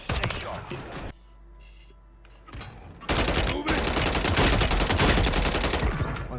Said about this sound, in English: Goddamn shotgun in the fucking face.